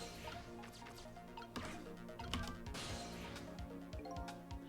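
Spilled water dripping in the Ghost Trick video game, a run of irregular drips and wet splats over a busy, muffled background, fairly quiet and with no talk.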